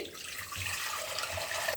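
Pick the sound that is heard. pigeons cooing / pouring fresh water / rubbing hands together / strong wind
pouring fresh water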